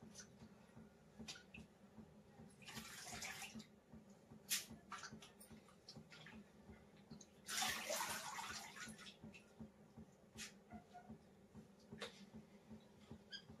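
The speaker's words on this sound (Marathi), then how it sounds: "आणखी पाणी टाकून 2 ते 3 पाण्याने स्वच्छ असा हा खिस धुवून घेते" Grated potato shreds are rinsed in a bowl of water at close range, with two bursts of sloshing and swishing and scattered small splashes and clinks between them, all at a low level and without talk.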